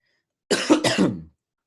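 A short burst of two or three dry coughs, close and fairly loud, then silence.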